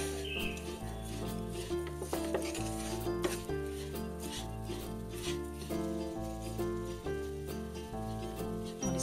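Moong dal halwa with sugar is stirred in a pan, giving soft rhythmic scraping and clinking of a utensil against the pan under a steady background of music, with no talking.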